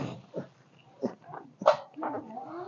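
A small black puppy gives a few short yips and whimpering barks, spaced irregularly, close by with no talking.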